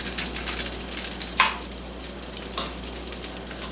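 Meatballs fry in a pan with a steady, soft sizzle and crackle, broken by a couple of sharper spits and pops close by, with no talking.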